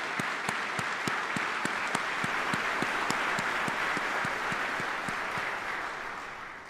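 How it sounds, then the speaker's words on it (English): A sustained round of applause from an audience at a military change of responsibility and retirement ceremony, steady dense clapping with a regular rhythmic clap cutting through, fading slightly toward the end. "Let's give them a round of applause."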